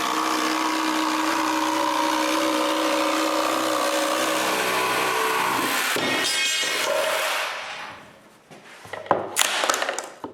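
Power saw cutting between two glued wood pieces, a loud steady whine for several seconds that winds down, followed by a few clunks of handling.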